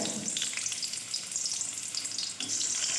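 Onion frying in white oil in a kadai, a dense continuous sizzle and crackle heard close up and fairly quiet, with no voices.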